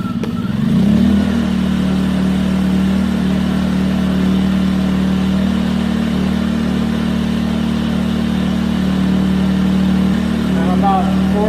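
A Champion 2000-watt portable generator engine catches and settles into a loud, steady running drone with strong low hum, recorded close by with no speech over it.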